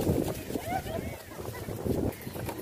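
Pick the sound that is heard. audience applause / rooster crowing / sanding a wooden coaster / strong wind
strong wind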